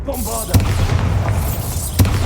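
A Bombarda explosion spell in Hogwarts Legacy, two short deep booming thuds about a second and a half apart over a low rumbling background.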